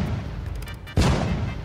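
A single loud cannon blast from the Teardown video game cuts in sharply after a quieter stretch, with a booming tail that lingers to the end.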